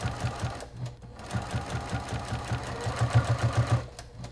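A sewing machine stitches pre-made binding onto a quilt-as-you-go quilt, with rapid rhythmic thumping stitches in short runs and brief pauses, close and moderately loud.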